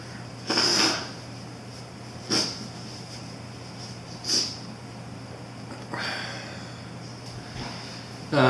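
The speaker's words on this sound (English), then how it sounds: "Blow my nose." A person blows their nose in a few separate short bursts with quiet pauses between, close and fairly soft, after eating a very hot 7 Pot pepper pod.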